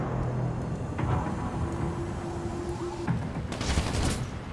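Gunfire in GTA 5's zombie survival mod, a steady rough barrage of distant-sounding shots and rumble with a louder burst near the end.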